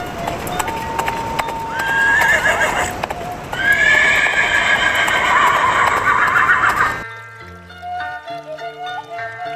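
A horse ridden in by a rider whinnies loudly over a few seconds while hooves clip-clop close by; the neighing then cuts out abruptly as music takes over.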